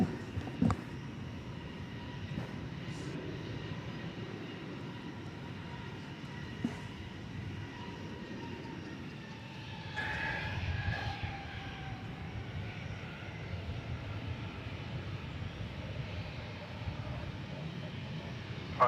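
American Airlines flight 1660, a jet at DFW Airport bound for Los Angeles, rumbles on its takeoff run as a faint, distant engine drone that swells slightly midway and holds steady.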